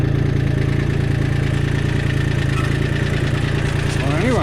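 A small International 234 tractor with a three-speed transmission runs at a steady, loud idle, its even engine drone constant throughout, with a short rising whine near the end.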